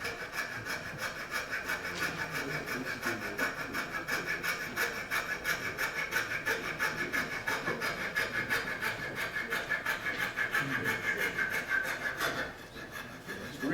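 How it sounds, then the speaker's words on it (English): Hand sanding of a thin wooden flower piece, a steady continuous scratchy rubbing that stays close and loud for about twelve seconds before stopping abruptly, with no talk. "you can see how I start the sanding on it"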